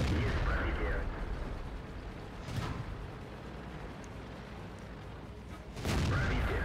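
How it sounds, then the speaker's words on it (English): Shells bounce off the armor of a KV-13 tank in World of Tanks, heavy booming impacts at the start, near the middle and at the end, over a constant engine rumble and a voice. "I'm bouncing shots all over the place"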